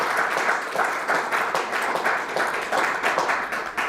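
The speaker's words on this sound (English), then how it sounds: "So please, a round of applause for all of you." An audience at a company's annual general meeting claps continuously for four seconds, a dense, steady wash of many hands with no speech over it.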